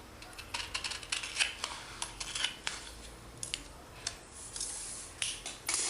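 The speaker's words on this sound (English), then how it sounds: "And now I am going to cut a rectangle." Scissors snip through a paper rectangle in a string of quiet, crisp cuts, irregularly spaced and close by, with no talking.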